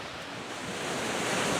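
Strong wind and surf on the Lake Baikal shore at Slyudyanka, a dense, continuous roar of waves and gusting air that builds slightly louder over a short stretch.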